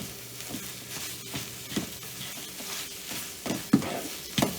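A protein wrap's liquid batter cooking in a pan for a low-carb meal, giving a soft, steady sizzle with faint scattered ticks and a few small taps near the end, without talk.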